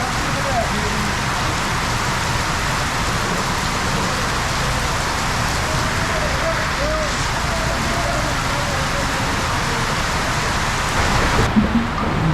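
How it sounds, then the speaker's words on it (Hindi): Heavy rain pours on a roadside at night in Pakistan between Lahore and Islamabad, a dense continuous hiss close and loud, steady throughout with a brief surge near the end. "इससे अंदाज़ा लगाएं कितनी तेज़ बारिश हो रही है"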